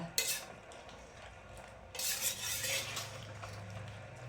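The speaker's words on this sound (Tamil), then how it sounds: "நல்லா கொஞ்சம் கிண்டி விடுங்க" A spoon stirs cooked dal in a pot while bottle gourd kootu is being made, giving soft scraping and metallic clinks in two short bursts over a quiet kitchen background.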